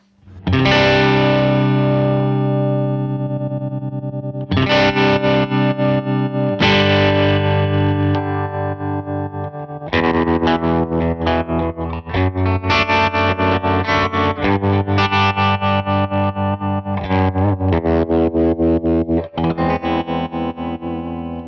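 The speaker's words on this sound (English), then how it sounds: "This one has tremolo as well, which is much like if you bought a Fender Deluxe Reverb, has tremolo in it." Electric guitar run through a Universal Audio amp sim pedal set to a Fender Deluxe Reverb voicing with tremolo, playing loud sustained chords and arpeggios in several phrases, with a pulsing, shimmering texture and no talking.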